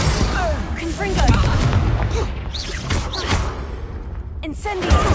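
Fire-blast explosion spell bursts in Hogwarts Legacy, a series of loud booms and crackling impacts filling the scene, mixed with game voices and shouting throughout.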